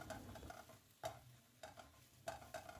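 A spatula stirring egg and cucumber frying in a hot pan, soft scraping strokes every half second or so over a faint steady sizzle, close and quiet.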